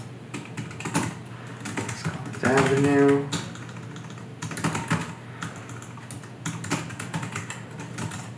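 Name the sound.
typing an address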